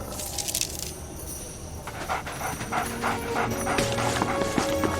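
A dog pants rapidly and steadily, close by, with some light rustling and background noise around it.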